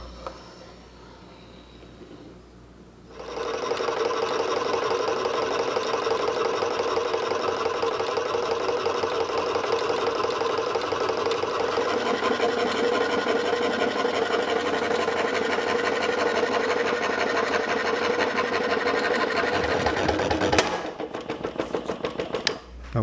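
A power saw cutting an 11-inch circle out of walnut: after a quiet start, a steady, loud, rapid buzzing cut runs for about seventeen seconds, then stops abruptly with a few short bursts near the end.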